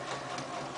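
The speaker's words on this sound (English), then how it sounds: "I'm just going to stitch right along that edge with that long basting stitch" A sewing machine runs a long basting stitch along the edge of a garment zipper fly, a steady mechanical whir that is close and continuous through the brief moment with no talking.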